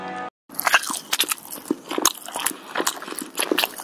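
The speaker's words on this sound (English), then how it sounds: "His cow chews his cud," A cow chews its cud in a pasture at sunset: crisp, crunchy bites and grinding chews repeat in an uneven rhythm, close and fairly loud, after a brief silence.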